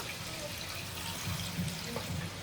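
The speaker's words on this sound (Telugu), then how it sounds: "ఇప్పుడైతే నేను వాటర్ పోసేసుకుంటున్నా" Water pours steadily into a pan of fish curry with a soft, continuous splashing gurgle, close and fairly quiet.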